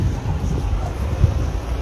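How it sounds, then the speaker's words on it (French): Steady wind blows outdoors on a warm day in Lyon, a low continuous rumble buffeting the microphone with one brief gust. "Heureusement qu'il y a un peu de vent."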